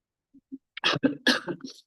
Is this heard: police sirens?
no